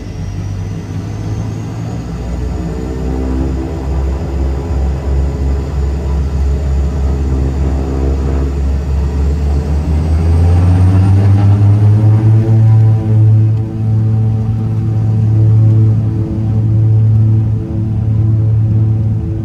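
A King Air E90 turboprop airplane starting its takeoff roll, a steady loud engine drone with a high turbine whine that swells and rises in pitch about halfway through as power builds.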